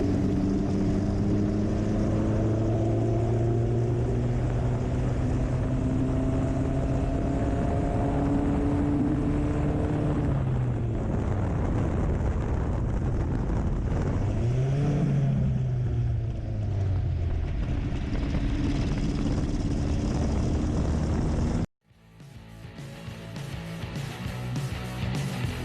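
A Formula Vee race car's engine pulls away loud and close after gear engagement, with rising and falling harmonic revs through repeated upshifts, then the sound cuts abruptly to a different rough, noisy engine roar.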